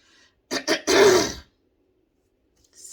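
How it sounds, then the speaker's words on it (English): One person clears their throat up close, with two short rasping bursts and then a longer, gravelly grunt-like clearing, followed by near silence. "that was probably gross clearing my throat"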